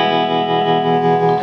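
An electric guitar in open E tuning played through a tremolo pedal rings out as a loud sustained chord with a gently pulsing, wavering volume, heard alone.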